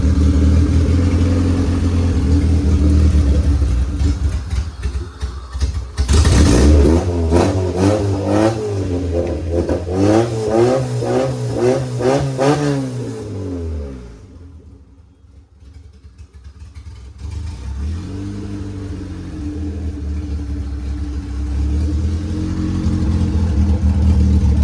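An EG Honda Civic coupe with a B20 engine and all-wheel-drive transmission starts up loud and close, revs in a run of rising and falling bursts, dips, then settles back into a steady idle.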